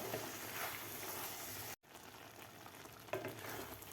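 Egg masala being stirred in a frying pan, a steady close sizzle with soft scraping, broken by a brief silent cut midway before the frying noise resumes.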